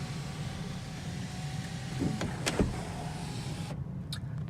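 An electric moonroof in a first car whirs open: a soft motor hum runs under a quiet cabin, with a few small clicks and knocks near the end as it stops.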